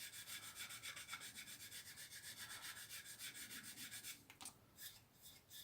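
A sander moved gently by hand across a Mitsubishi Zero scale model, giving a steady rhythmic rasp of quick back-and-forth strokes that thins out and turns patchy near the end, close and quiet with no voices.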